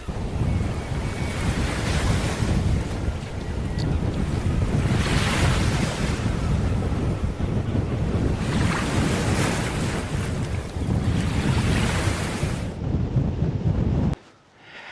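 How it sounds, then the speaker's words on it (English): Heavy ocean waves surge and crash onto rocks on the Oregon coast near Newport in slow rolling swells, loud and continuous, with gusting wind buffeting the microphone until it cuts off at the end. "looked at the ocean and the waves crashing on the rocks."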